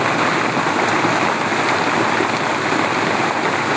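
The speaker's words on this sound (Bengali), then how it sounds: "অনেক জোরে আরো বৃষ্টি হচ্ছে" Heavy rain pours steadily in a dense, continuous broadband hiss, loud and close, with no pauses or voices.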